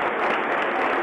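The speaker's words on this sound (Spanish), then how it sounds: "aplaudido que se va, Quinto." A stadium crowd at a Racing vs Lanús football match applauds a substituted player leaving the pitch, a steady, dense wash of clapping heard at a distance, with no commentary over it.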